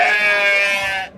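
Sheep at a livestock market in Chim, Qamashi, give one loud, sustained, wavering bleat just over a second long, close by and alone with no talk over it.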